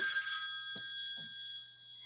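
A telephone rings with a steady, bright electronic tone that holds throughout, fairly close and clear, with two faint, brief knocks in the background and no talk.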